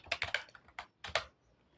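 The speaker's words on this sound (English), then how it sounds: "just type Zphisher and then GitHub" Quick bursts of keystrokes clatter on a computer keyboard, a few close, crisp clusters of taps separated by short pauses, then quiet.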